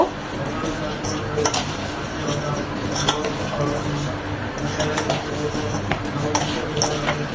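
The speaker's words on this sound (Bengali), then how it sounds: "চিনিটা দিয়ে আমগুলোকে মাখিয়ে নেব জাস্ট আলাদা হাতে মিশিয়ে নেব" Grated raw mango is mixed with sugar by hand for a pickle, giving soft squishy stirring and occasional faint clinks of a bowl, close-up and continuous under a quiet background.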